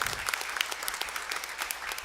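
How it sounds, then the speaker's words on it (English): Steady applause from a crowd, many hands clapping at once in a dense, even patter. "Let's give him a big round of applause."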